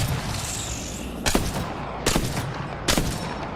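Three evenly spaced, sharp Longbow sniper rifle shots ring out in Apex Legends, each a loud crack with a short tail, over a steady background hiss of in-game ambience.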